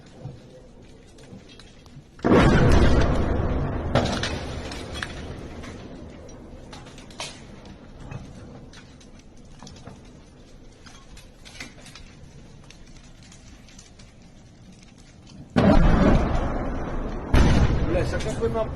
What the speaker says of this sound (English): We can, of course, hear the massive explosions in the distance.